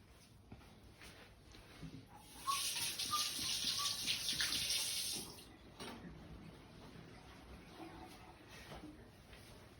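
Running water from a tap splashing over hands at a sink, a steady rushing gush lasting a few seconds at moderate distance, with quieter room noise before and after.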